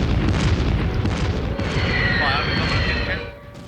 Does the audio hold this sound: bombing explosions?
yes